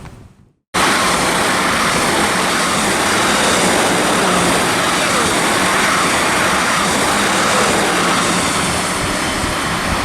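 A South West Main Line train, units 444017 and 444005 on a Wareham to London Waterloo service, roars loudly through Weybridge station after a brief quiet start, a dense, sustained rushing noise close by.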